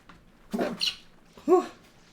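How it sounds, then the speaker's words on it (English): A single human sneeze, close and fairly sharp, with a short breathy intake followed by a louder burst about a second later against a quiet background. "I hate to sneeze."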